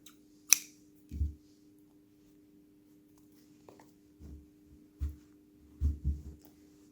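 Scissors cutting crochet thread in a quiet room, a sharp snip followed by several soft, low handling thumps and clicks spread out at irregular intervals.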